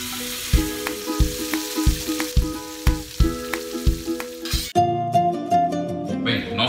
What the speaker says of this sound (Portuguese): Adicionamos nossa carne em cubos. Vou adicionar os nossos tomates.